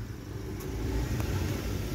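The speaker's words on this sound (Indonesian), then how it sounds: "Ini posisi mobil hidup ya" A 2019 Toyota Calya with manual transmission idles with its engine running, a steady close low rumble with a couple of faint brief ticks above it.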